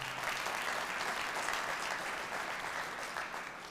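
An audience applauds a congresswoman at a live state-of-the-community event, a broad steady wash of many hands clapping at an even level, gently fading near the end.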